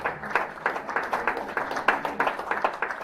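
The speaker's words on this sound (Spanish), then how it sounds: "le vamos a dar un aplauso" A church congregation in Uruguay claps together in worship, a steady, fairly rhythmic burst of hand claps filling the room at moderate loudness with no voices over it.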